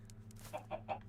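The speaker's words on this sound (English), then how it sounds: "what we don't want are the chickens getting out" Chickens clucking in the video game Minecraft, three short soft clucks in a steady row over a low constant background hum, no talk.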